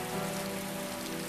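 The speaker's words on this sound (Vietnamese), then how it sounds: "cuối cùng cũng mưa rồi" Steady rain falls outdoors, a dense, continuous hiss of drops on surfaces with no break, fairly loud and close throughout the short stretch.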